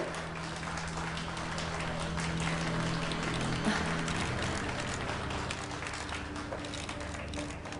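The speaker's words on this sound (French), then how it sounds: "Applaudissons-le s'il vous plaît." An audience at a perfume launch event applauds in a soft, steady patter of many hands heard from a distance. The clapping fades slightly toward the end.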